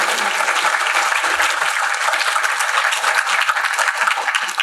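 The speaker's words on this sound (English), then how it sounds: "Let's give him a round of applause." An audience applauds at an award ceremony honoring an author at a writers' festival, a dense, steady wash of clapping from a full room that holds evenly for several seconds.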